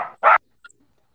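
A dog gives two short, loud, close barks in quick succession, followed by a faint yip and then quiet.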